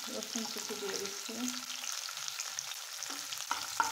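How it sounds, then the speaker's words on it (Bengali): Chopped garlic and green chillies fry together in hot oil, a close, steady sizzle with scraping stirs and a few sharp clinks of utensil against the pan. "কাঁচামরিচের মধ্যে রসুন কুচি দিয়ে দিচ্ছি"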